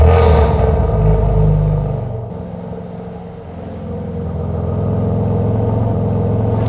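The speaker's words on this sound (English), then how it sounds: "with a set of shielded downpipes and a full Scorpion exhaust, they sound absolutely savage" A tuned BMW G80 M3 xDrive with shielded downpipes and a full Scorpion exhaust revs up loudly, dips briefly, then swells again into a sustained deep, throaty growling exhaust rumble, close by.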